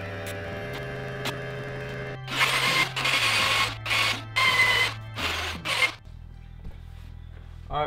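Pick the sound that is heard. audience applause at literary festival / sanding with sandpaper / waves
sanding with sandpaper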